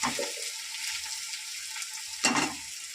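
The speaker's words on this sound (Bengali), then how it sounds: "দেখো পেঁয়াজগুলো কিন্তু আদা ভাজা হয়েছে" Onions and ginger frying in a pan for a small-fish and vegetable dish, a soft steady sizzle with a brief louder burst of hissing near the end, close and alone without talk.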